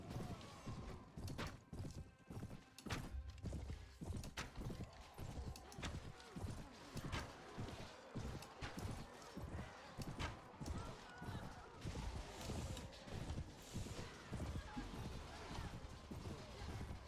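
Many cavalry horses' hooves clip-clop steadily in a large mounted charge in the Pendor campaign of a medieval battle game, a dense rhythmic drumming with battle clatter and voices talking over it throughout.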